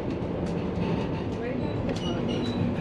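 Overland passenger train climbing through hills on winding track between Melbourne and Adelaide, a steady close rumble of wheels and carriage noise throughout with faint higher squeals, no clear talk.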